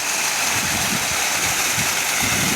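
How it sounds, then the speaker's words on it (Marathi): Rain-swollen streams and a waterfall pour in a dense, unbroken rush of water, loud and near, with no voices over it. "आणि हे धबधबा आणखी या साईडला इकडं भरपूर धबधबा येते"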